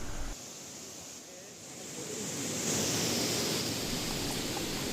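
A river near Savatkada Waterfall in Rajapur, Konkan, roars continuously, growing louder and fuller after a couple of seconds.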